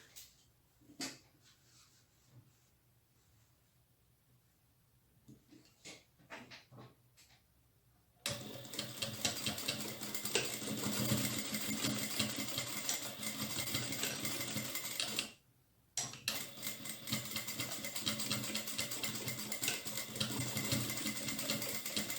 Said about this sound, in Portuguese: Eu passo a costura de 1 centímetro em todo esse material aqui que tá unido.